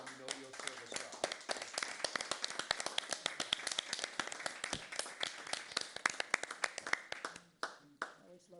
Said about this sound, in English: So I'd like to give them all applause again